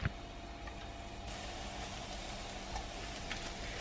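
Marinated tofu fries in a pan with a soft, even sizzle, faint and steady from start to finish with a light hiss and occasional small ticks.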